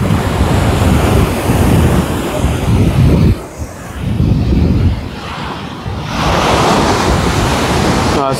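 Ocean surf rolls in at Cherai Beach in Kochi, Kerala, loud crashing waves with heavy wind buffeting the microphone, easing briefly twice before the roar returns.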